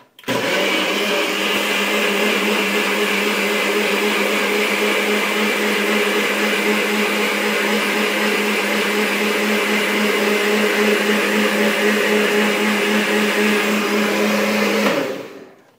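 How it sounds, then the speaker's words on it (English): A blender whirs loudly and steadily for about fifteen seconds, a constant motor drone with a high whine, starting and stopping abruptly. "That is going to turn on the blender. Maybe a little bit loud"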